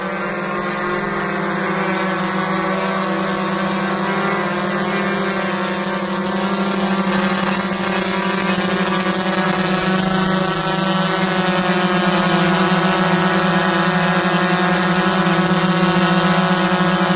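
A GoPro Karma drone hovers nearby with a loud, steady, high-pitched propeller whine that stays constant throughout, with no talking.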